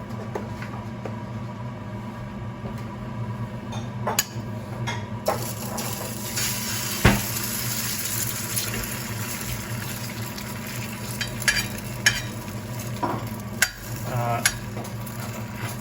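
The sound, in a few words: egg cracked into oiled pan, frying and sizzling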